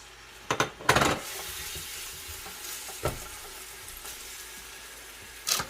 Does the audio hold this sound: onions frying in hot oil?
yes